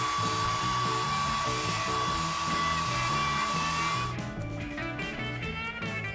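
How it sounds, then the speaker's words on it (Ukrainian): A steady, loud hot hair dryer blowing continuously under music with a strong beat, its airy whine holding throughout before shifting slightly near the end. "і сушимо гарячим феном"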